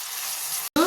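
Tomatoes and a small ball of tamarind fry in oil with a steady, close sizzle, broken by a short gap before a louder burst of frying.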